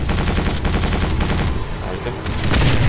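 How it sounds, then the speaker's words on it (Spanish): Rapid gunfire from the first-person shooter Quake 4, loud repeated shots in a fast rhythm, ending under a swelling rumble of combat noise. "Hay distintos tipos de disparos."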